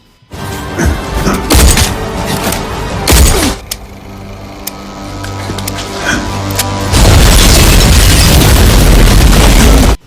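A loud bomb explosion in a film: a boom and heavy bursts, then a roaring blast of noise that holds steady toward the end.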